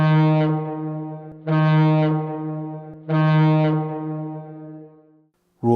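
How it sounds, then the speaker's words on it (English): A ship's whistle sounds a danger signal as long, loud, deep blasts, three in a row with short gaps between them, heard alone with no voices. "5 short and rapid blasts of the whistle,"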